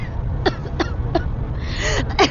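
Several short coughs from a woman driving come in a quick irregular series, close by, over a low engine-like hum.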